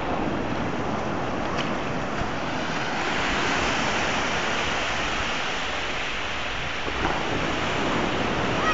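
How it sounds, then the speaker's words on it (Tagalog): Ocean waves break on the beach at Ballesteros, Cagayan, a continuous loud wash of surf with wind buffeting the microphone and no voices. "Laking alon."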